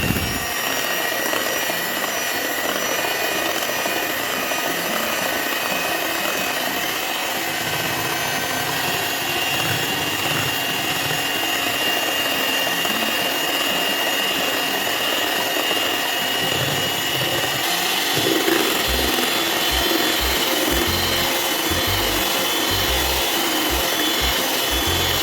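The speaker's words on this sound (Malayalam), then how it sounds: "ഞാൻ ബീറ്ററിലാണ് ചെയ്യുന്നത്." An electric beater whips a cup of cream for homemade mango ice cream, a continuous high whirring drone that holds steady for the whole stretch, with low knocking near the end and no talking.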